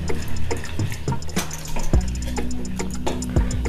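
Red poha rice flakes are rinsed in a tumbler of water, giving light sloshing and splashing with sharp clicks and clinks of the vessel, close and fairly loud.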